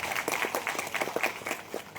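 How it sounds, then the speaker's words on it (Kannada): An audience applauds for a stage guest, with steady, moderately loud clapping from many hands throughout, slightly distant and with no talk over it. "ದಯವಿಟ್ಟು ಒಂದು ಚಪ್ಪಾಳೆ ಬರಲಿ"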